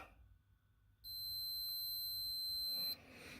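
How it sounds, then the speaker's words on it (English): A steady, high-pitched electronic beep sounds for about two seconds against quiet background noise, then cuts off abruptly. "You'll hear it beep."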